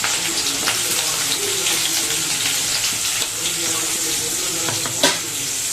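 Onions frying in oil, a dense continuous sizzle with faint stirring and a sharp clink near the end, close up.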